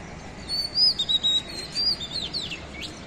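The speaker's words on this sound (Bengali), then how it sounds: "একটা পাখি ডাকতেছে, এটা দোয়েল পাখি।" An oriental magpie-robin, or doyel, sings a short run of bright whistled notes and chirps against quiet morning background noise, moderately near and with no voices.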